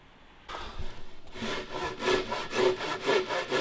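A hand saw cuts through wood for a boat build, a steady series of rhythmic back-and-forth strokes starting abruptly and growing louder, close by and alone.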